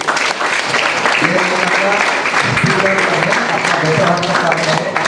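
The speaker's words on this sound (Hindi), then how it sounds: "ताली बजा देते हैं" Audience applause at a month-end spiritual awakening programme in Jipu, Lower Siang: loud continuous clapping from a gathered crowd, with voices talking close by over the clapping throughout.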